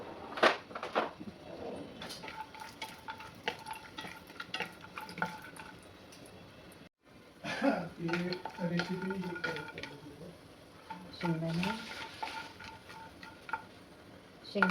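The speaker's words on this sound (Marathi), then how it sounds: "याच्यामध्ये शेंगदाणे फ्राय करून घ्यायचे आहेत आपल्याला." Peanuts roasting in a spoonful of hot oil in a pan, stirred with irregular scraping clicks and light rattles over a soft frying hiss, with a voice talking through much of it.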